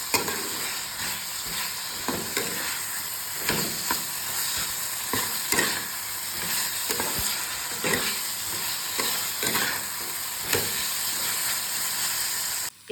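Ginger-garlic paste is mashed and stirred in a hot pan, giving a steady loud sizzle and hiss broken by frequent scraping and tapping strokes of the spoon, continuous throughout.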